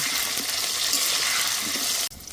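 Pointed gourd (potol) pieces with a little salt fry in hot oil, a loud, dense, steady sizzle close up that cuts off abruptly near the end, with no talking.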